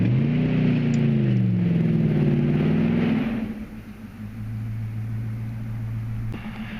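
A Nissan Titan Pro4X with its rear diff locked in two-wheel drive does a burnout on grass, its engine revving loud and wavering before dropping to a lower, steady drone.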